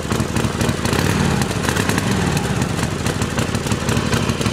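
Harley-Davidson Forty-Eight motorcycle engine idling steadily nearby, a loud, continuous low throbbing rumble with rapid even pulses and no break throughout.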